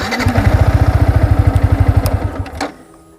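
A motorcycle kicks into life on its self starter, a rapid, regular chug of firing pulses, loud and close, that settles and fades after a couple of seconds.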